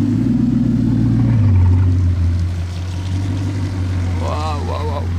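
Bugatti Chiron Super Sport rumbling nearby with a deep engine drone that swells, drops in pitch as it eases off, then settles into a steady low hum while people talk over it.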